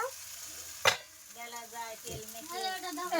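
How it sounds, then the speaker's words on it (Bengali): Chicken pieces from country roosters drop into a pan of sizzling spice masala, a steady frying hiss with a thump and stirring scrapes close by, as a voice speaks softly over it. "এবারে মাংস দিয়ে দেব"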